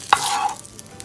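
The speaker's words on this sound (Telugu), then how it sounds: "కొద్దిగా చిటికెడ అంటే చిటికెడ పసుపు, గరం మసాలా, ధనియాల పొడి, లైట్గా జీరా పొడి, అలాగే కావాల్సినంత కారం వేసి వేయించుకుందాం" Turmeric, garam masala, coriander powder, cumin powder and chili powder being fried in a pan, with a quick stir scrape and a short soft sizzle that fades within a second.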